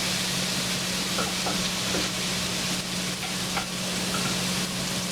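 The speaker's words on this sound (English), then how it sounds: "because we preheated our pan, we got a nice sizzle going" Steady, dense sizzling of oil in a preheated pan fills the clip, a continuous crackling hiss with a low hum underneath and faint clinks.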